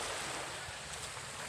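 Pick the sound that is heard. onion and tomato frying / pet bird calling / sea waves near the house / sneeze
sea waves near the house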